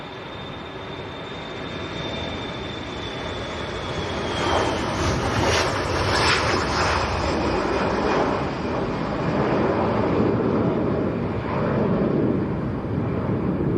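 A Jet2 Boeing 737-300 departing Leeds Bradford Airport on a windy day, a loud broad jet roar that swells midway and holds steady, with a faint whine at the start.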